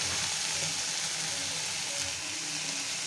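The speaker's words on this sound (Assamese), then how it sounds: "পিঁয়াজখিনি অকণমান ভাজা হোৱাৰ পিছত এতিয়া মই এটা আদা নহৰু আৰু জলকীয়াৰ পেষ্টখিনি দি দিছোঁ।" Onions frying in a pan with ginger, garlic and chilli paste, a steady soft sizzle with faint stirring, quiet and close, no voices.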